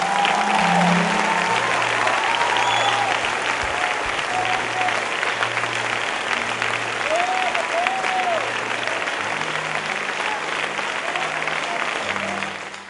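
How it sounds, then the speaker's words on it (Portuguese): Sustained applause from a large church congregation, steady and loud throughout, fading slightly near the end. "eu quero ver você dar uma salva de palmas a Jesus"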